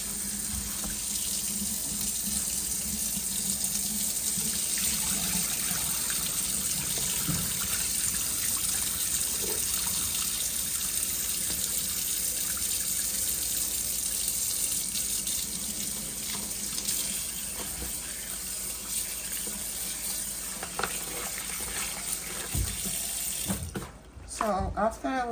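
Meat being washed under a running kitchen tap, a constant loud gush of water into the sink with faint splashes and shifting, and a short clatter near the end.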